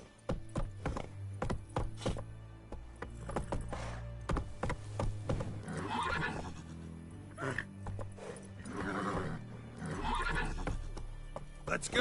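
Roach, Geralt's horse in The Witcher 3 video game, whinnies repeatedly over clip-clop hooves and wooden knocks, loud and close, with brief talk mixed in.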